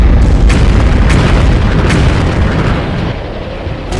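Heavy booming blasts of ship gunfire at sea, several sharp bursts in quick succession, over a loud continuous rumble that gradually eases off.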